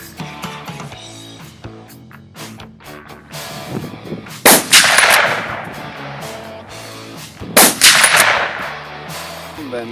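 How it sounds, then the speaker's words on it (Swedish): Two sharp, loud rifle shots ring out at a target shooting range, several seconds apart, each with a booming echo that fades slowly. "skjuter vi 3 skott på varje tavla."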